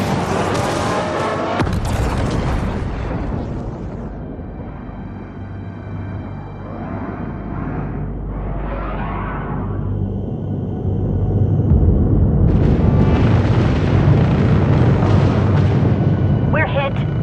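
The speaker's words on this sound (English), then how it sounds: "We're hit. Kinetic fire." Kinetic rounds strike a spaceship in the Homeworld 3 space battle, heavy booming impacts and rumbling blasts layered with loud sustained noise, swelling louder toward the end.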